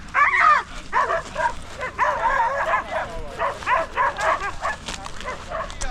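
Hunting dogs on a quail and pigeon hunt in Kakheti bark and yip in quick, repeated bursts, fairly close and loud, with some whimpering between barks.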